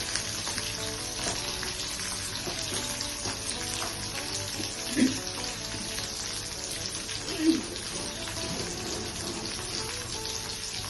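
Turmeric- and salt-rubbed fish fry in hot oil in a pan, giving a steady, moderately quiet sizzle with a couple of brief louder pops midway.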